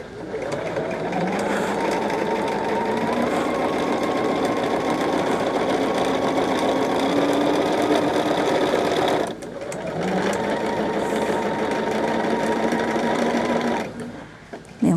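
A sewing machine stitches a large quilt, running in a loud, steady, close whir for about nine seconds, pausing briefly, then running again for several more seconds before stopping.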